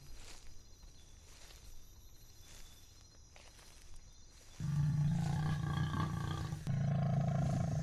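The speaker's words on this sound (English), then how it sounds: "the lioness's roar had just resounded" A lioness roars from low grass on the Serengeti on a quiet morning, a deep, drawn-out rumble that swells and grows louder through the second half over faint background noise.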